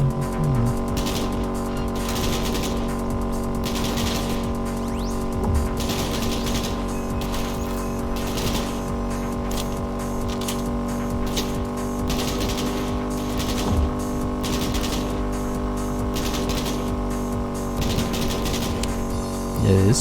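A car races at high speed during a chase in Cyberpunk 2077. The engine roars steadily throughout, and short tire squeals break through near the start and the end.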